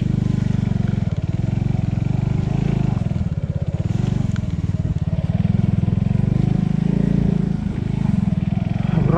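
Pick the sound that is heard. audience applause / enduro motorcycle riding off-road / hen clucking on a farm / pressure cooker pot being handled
enduro motorcycle riding off-road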